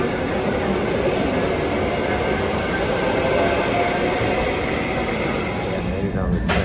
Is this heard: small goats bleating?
no